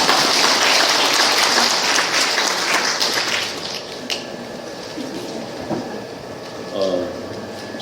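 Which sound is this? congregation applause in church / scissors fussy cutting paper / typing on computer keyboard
congregation applause in church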